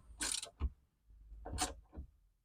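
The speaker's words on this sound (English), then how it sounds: "let's grab our ratchet and just snug them up." Quiet mechanical clicking and creaking as a hand ratchet snugs up bolts on a Ford Bronco rear cargo shelf, in a few short bursts close by, with no talking.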